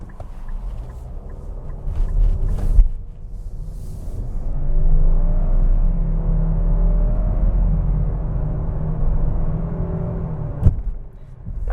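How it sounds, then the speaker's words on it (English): A 2021 Nissan Rogue SV's 4-cylinder engine pulls through a 0 to 60 run, its moderate drone rising in pitch through gear changes, heard clearly from inside the cabin with no talk. "we're going to have a great opportunity to get a 0 to 60 acceleration immediately into this test drive"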